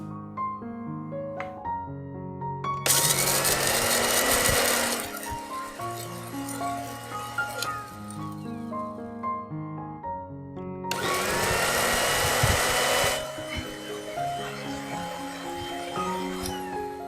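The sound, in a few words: blender grinding dried chili peppers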